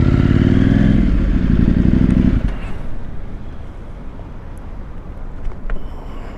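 Motorcycle riding past with a loud engine roar for the first couple of seconds, then fading into softer road and wind rumble with light rattles.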